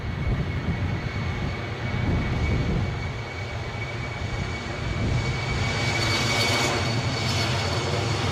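A British Airways airplane at windy Edinburgh airport: a steady, loud engine roar with wind rumble, swelling toward the end.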